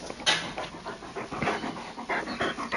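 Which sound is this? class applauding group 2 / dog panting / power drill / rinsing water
dog panting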